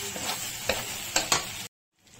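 Masala for bhindi is fried in a pan, a close sizzle broken by several sharp stirring scrapes before cutting off abruptly into silence near the end.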